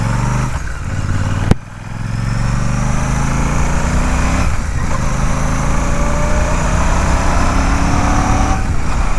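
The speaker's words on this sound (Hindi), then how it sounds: "बहुत ही वाइब्रेशन लेस और बहुत ही सूथिंग इंजन साउंड है।" Royal Enfield Classic 650 parallel-twin motorcycle pulling away in first gear, a steady, smooth engine drone rising gradually in pitch with one brief dip early on, heard up close without talk.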